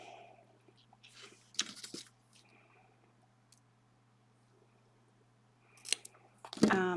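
Scissors snip in short bursts, with a couple of quick cuts early on and more near the end. Quiet stretches fall between the cuts over a faint steady hum.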